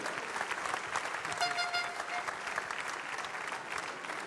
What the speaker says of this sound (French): Thierry Sibu, que je vous demande d'applaudir